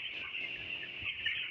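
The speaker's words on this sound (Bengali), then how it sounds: "আমাদের এই মুরগির বাচ্চাগুলোর বয়স হচ্ছে আজকে 14 দিন।" A brood of fourteen-day-old broiler chicks from a company hatchery cheeps in a dense, continuous chorus of high, thin peeps, fairly quiet and with no voices.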